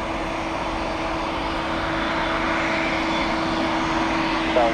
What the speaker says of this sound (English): Ooh, see right through those cool big A220 engines.